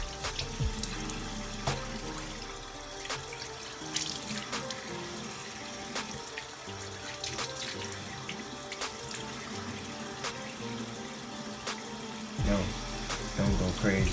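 Tap water runs steadily into a sink while dreadlocks are washed, a continuous close splashing stream with a few knocks and shifts in the flow and a surge near the end.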